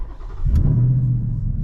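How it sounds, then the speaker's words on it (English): A Ram TRX pickup's engine cranks and catches, settling into a loud, close, steady low idle rumble after a brief start. "All right, so let's start the truck."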